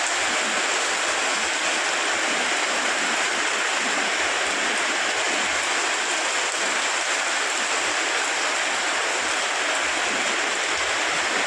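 Rainwater rushes through a canal during a downpour, a loud, constant roar of flowing water with no voices.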